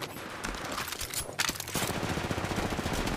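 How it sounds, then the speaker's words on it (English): Rapid automatic gunfire in Apex Legends Mobile, a steady rattling stream of shots that grows denser and louder after a brief sharper burst partway through, with no talking. "Opening fire."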